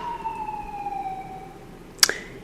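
An ambulance siren passes as a steady wailing tone that slowly drops in pitch, moderately faint, before a sharp click cuts in near the end.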